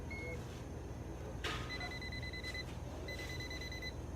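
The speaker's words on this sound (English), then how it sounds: "My voltmeter, or sorry, my beeper." An electrical continuity tester beeps in two short paired tones near a walk-in freezer door heater, set against a loud steady hum of machinery with a brief knock between.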